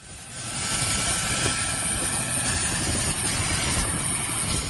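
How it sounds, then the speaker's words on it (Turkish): A helicopter flies nearby, its steady loud rotor and engine drone filling the whole stretch without a break, with no voices over it. "Helikopterle Bağımsızlık Sarayı'na ilerledi."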